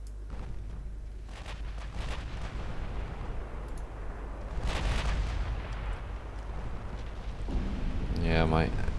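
Big naval guns fire at heavy cruisers in the Ultimate Admiral Dreadnoughts naval battle game, heavy booming blasts and rumbling over a constant roar of battle noise, growing louder toward the end.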